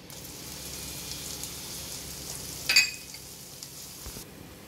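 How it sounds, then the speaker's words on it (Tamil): Roasted semolina and grated coconut fry together in a pan with a steady soft sizzle, one brief scraping stir standing out near the middle, close and fairly quiet, with no voices. "இப்போ பார்த்தீங்கன்னா நம்ம தேங்காய் சேர்த்து ஒரு 2 minutes நல்லா இதிலே ஃப்ரை பண்ணிட்டோம்."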